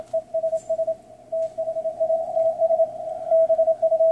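CW Morse sidetone from an Icom IC-7300 played through a sound tube: a clear, steady mid-pitched tone keyed in rapid on-off dits and dahs throughout, loud and alone with no talk.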